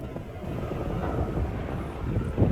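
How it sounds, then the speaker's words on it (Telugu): A helicopter passes overhead above Prospect Hill Park as a steady low rumble blended with wind buffeting the microphone, continuous for the whole stretch with no talking. "పైన అయితే హెలికాప్టర్ వెళ్తుంది"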